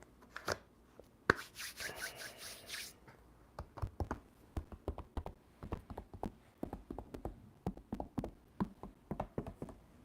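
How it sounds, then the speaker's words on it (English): A deck of oracle cards being shuffled by hand, with a brief riffle burst early on followed by many quick close taps and slaps in an uneven rhythm. "Give it a quick shuffle."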